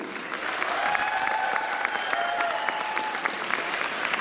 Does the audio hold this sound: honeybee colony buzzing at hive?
no